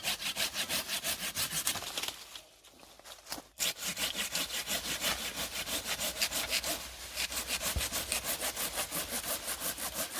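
Saw cutting through the upper trunk of a diseased orchard tree infected with canker and rot, a steady rhythmic rasp of repeated strokes, loud and close, with a brief pause partway through before the sawing resumes.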